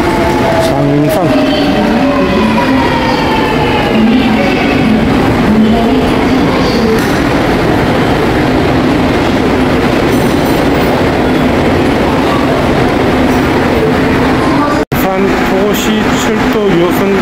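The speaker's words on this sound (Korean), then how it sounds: "장산에 열차가 들어온다고 그러네요." A Busan Metro Line 2 subway train pulls into Jangsan station, a loud continuous rumble with clattering wheels and shifting motor whine filling the platform from start to finish.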